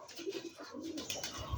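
Rajshahi Giribaz pigeons give soft, faint, low cooing phrases nearby, with some light rustling and no talking.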